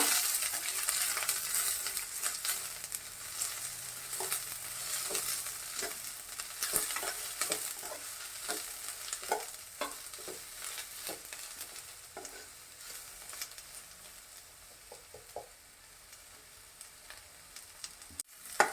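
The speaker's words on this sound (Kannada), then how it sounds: "ಇದನ್ನು ಸ್ವಲ್ಪನೇ ಫ್ರೈ ಮಾಡಿಕೊಂಡ್ರೆ ಸಾಕು" Onions frying briefly in a pan for onion chutney, a soft steady sizzle under repeated light stirring scrapes and taps, fairly quiet and without speech.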